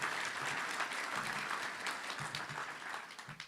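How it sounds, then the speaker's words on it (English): An audience at a Little Rock Touchdown Club luncheon claps in a dense, sustained round of applause that fades slightly toward the end. "let's give that year a round of applause"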